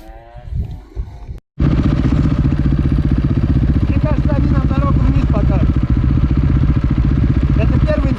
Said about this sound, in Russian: На эндурике кто-то тренируется.